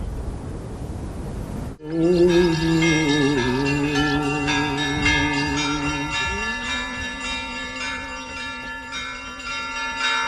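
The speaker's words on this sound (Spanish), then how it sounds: "Las campanas de Kishi son también propiedad del museo." A loud church bell of Kizhi Pogost, Russia, strikes and rings out with a long, resonant hum that slowly fades, following a brief patch of background noise.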